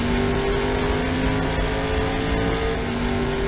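Ford Explorer ST with a V6 engine idles and revs, a steady loud engine drone with a low hum throughout, close and continuous with no talk.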